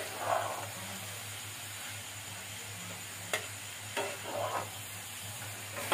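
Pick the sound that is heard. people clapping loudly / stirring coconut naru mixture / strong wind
stirring coconut naru mixture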